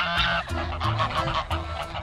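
Geese honk near a pond in a rural village in Mari El, Russia, a close run of repeated nasal honks in quick, uneven succession.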